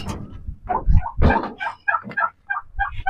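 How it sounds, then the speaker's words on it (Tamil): Several close turkey gobbles in quick rattling bursts, loud and repeated over a few seconds. "வான்கோழிகள் நம்மக்கிட்ட எவ்வளோ இருக்குது அப்படின்னு சொல்லி இங்கே பாருங்கள்"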